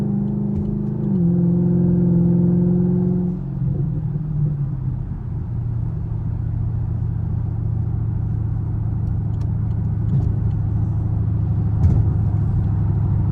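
A Chevrolet Camaro SS engine revs high, then settles into a steady, loud, close rumble as the car accelerates through traffic, with no voices.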